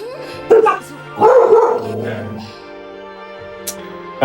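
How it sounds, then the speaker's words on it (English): A pet dog lets out a couple of short, sharp barks and yips nearby, followed by quieter whimpering, with a person's voice also heard. "That's my dog."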